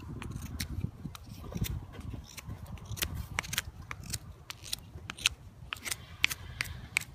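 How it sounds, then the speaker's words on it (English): A back country survival knife slices through wood with a rapid series of sharp crisp cracks and snaps over a low rustling bed of handling noise, close and fairly quiet, with no talk. "It's slicing through stuff really quickly."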